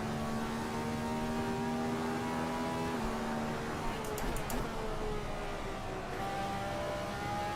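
Mazda MX-5 engine in the racing sim Assetto Corsa, a steady droning whine held at near-constant pitch, dipping briefly twice as revs change, with quiet muffled voices in the background.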